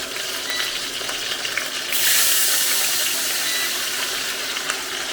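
Continuous sizzling of flour frying in a pan, then a brighter rushing splash begins partway through as water is poured in, hissing steadily afterward.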